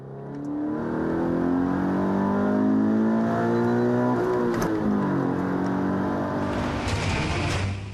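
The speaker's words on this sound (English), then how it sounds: "The four-cylinder engine is demanding, but rewards the driver inside with a thoroughly robust sound" A Toyota GT86's naturally aspirated four-cylinder engine revs up through its range, the pitch climbing steadily and then easing off, loud and close from inside the car with a smooth, rising tone and no talking.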